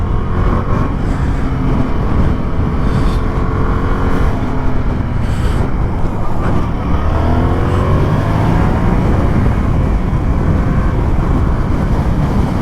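A 2024 Yamaha MT-07 motorcycle pulls in low gear under heavy, steady wind roar, with the engine's rising whine audible beneath the buffeting throughout, and no talking.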